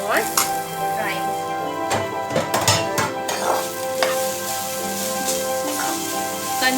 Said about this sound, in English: Continue frying on low flame for some more time